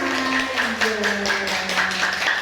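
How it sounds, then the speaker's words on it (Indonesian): A school class claps together in quick rhythmic bursts while children's voices chant or sing along, the claps and voices blending loudly and evenly close by. "tepuk tangan buat kita bersama"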